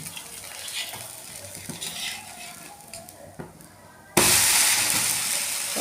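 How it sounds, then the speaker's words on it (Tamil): Dosa batter cooks on a hot pan with a soft, uneven sizzle and a few utensil clinks, then the hiss jumps abruptly louder and stays steady near the end. "ஒரு தோசை வெந்துகிட்ருக்கா"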